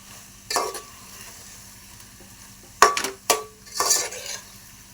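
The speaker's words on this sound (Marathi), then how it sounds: "पास्ता ॲड केल्यावर यालाही व्यवस्थित आपण मिक्स करून घेऊया." Cheesy masala macaroni being mixed in a pan over a faint steady sizzle, with a few distinct scraping, clinking spoon strokes against the pan in short bursts, close up and without talking.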